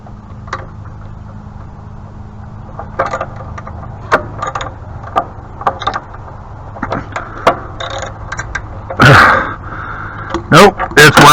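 Ratchet wrench clicking in short, irregular bursts while working on a pressure washer repair, the metallic ticks close and sharp with a louder clatter near the end, over a low background hum.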